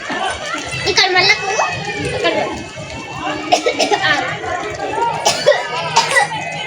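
A cough breaks through lively children's chatter and chuckling in a playful comedy guessing game, with voices talking around it throughout.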